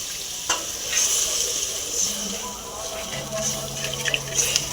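Water goes into masala frying in a pan for rui posto, the Bengali fish-in-poppy-seed dish, producing a steady sizzle with scattered crackles, stirring scrapes and a few spoon clinks.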